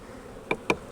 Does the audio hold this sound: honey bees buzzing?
yes